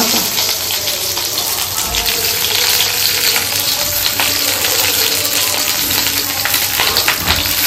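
Okra sizzling steadily in hot oil in a home kitchen, a continuous dense crackle with occasional sharper pops and faint stirring clatter, close and fairly loud throughout.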